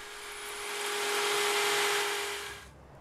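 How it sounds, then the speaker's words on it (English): A drill whirs steadily as a foam wing core is fed against a guide, rising to a sustained high-pitched hum and then spinning down; no voices. "feeding the wing core into the drill, making sure it's up against the guide"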